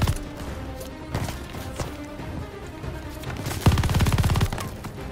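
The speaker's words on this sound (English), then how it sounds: "Who's shooting at me?" Gunfire in Call of Duty Vanguard, with scattered loud shots early on and then a fast burst of rapid automatic fire near the end, all close and punchy.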